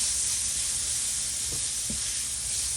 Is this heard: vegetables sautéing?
yes